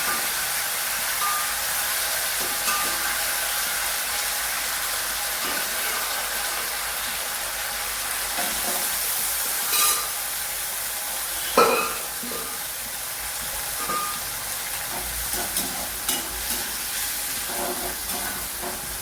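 Chickpeas being stirred into well-roasted grated coconut in a pan, a continuous close hiss of frying with a few scraping clicks and taps from the spoon, no voices.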